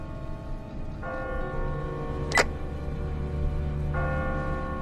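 A church bell tolls from a bell tower in The Walking Dead video game, two ringing strikes some three seconds apart with a long humming decay, over a low background drone and a sharp click between them.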